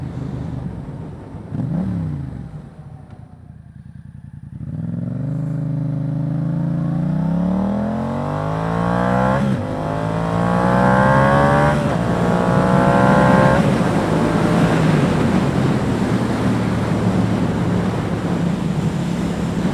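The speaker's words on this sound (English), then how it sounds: "my Akrapovic exhaust is louder than it was before" Yamaha FZ-07 motorcycle fitted with an Akrapovic exhaust with the dB killer removed, loud and close, idling then revving and accelerating through several gears with rising and falling engine pitch and wind rush.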